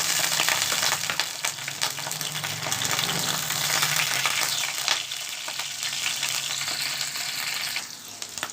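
Onion, green chillies and curry leaves fry with mustard seeds and cumin in a pan for a beans fry, giving a steady, dense close sizzle that continues without pause.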